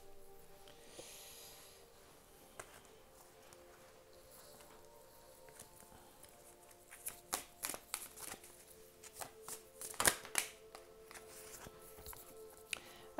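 Oracle cards shuffled during a card reading, quiet at first, then a run of soft, uneven riffling and slapping strokes that build toward a louder flurry near the end, close by with no talking.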